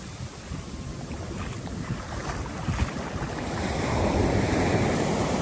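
Surf washes steadily onto a quiet beach in Penha, Santa Catarina, with a broad, continuous rush that swells a little louder toward the end, mixed with light wind noise and no voices.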